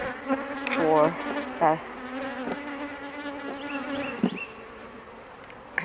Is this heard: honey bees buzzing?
yes